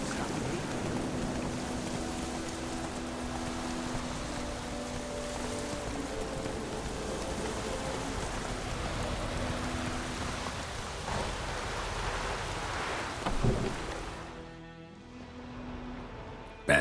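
Steady rain falls in The Witcher 3 video game, a continuous hiss with a low hum beneath, then fades out abruptly near the end.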